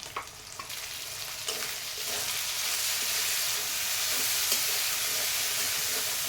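Onion, ginger and garlic paste fry and are stirred in hot oil, producing a dense hissing sizzle with occasional spoon scrapes that grows slightly louder and steadier.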